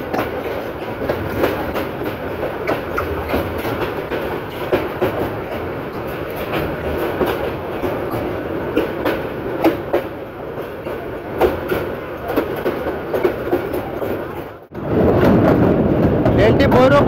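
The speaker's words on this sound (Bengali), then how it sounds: "ট্রেনটি কিছুক্ষণের মধ্যে ভৈরব বাজার ব্রিজে উঠবে মেঘনা সেতুতে।" Local train running toward the Meghna rail bridge at Bhairab Bazar, a loud steady rumble with rhythmic clickety-clack of wheels heard from inside the carriage, the tone shifting abruptly near the end.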